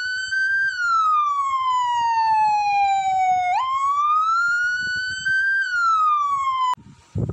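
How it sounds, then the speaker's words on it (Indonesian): A loud wailing police siren sweeps slowly down and back up in pitch, close and continuous, then cuts off abruptly near the end. "Upacara ini dimulai setelah terdengar bunyi sirine dari Polsek Subsektor Huamual."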